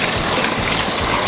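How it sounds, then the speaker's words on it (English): Water poured from above into the middle of a bucket of sand, a brief, steady gushing splash, close and fairly loud, with no voices. "Then we get our water and pour it into the center of the bucket."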